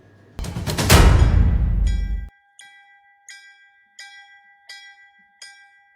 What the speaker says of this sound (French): La cloche a retenti à Ouassé.